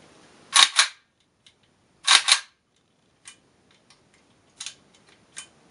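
A VZ2008 rifle trigger with a faulty, loose mechanism clicks close and crisp in a few sharp metallic pairs, followed by lighter isolated ticks spread across near-silence.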